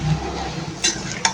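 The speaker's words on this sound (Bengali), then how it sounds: "এখন আমি মশলার সাথে মিক্স করব, নেড়ে চেড়ে এভাবে।" Chopped banana flower is stirred with spices in a pan: a low, soft sizzle with two quick utensil scrapes or clinks against the pan near the end.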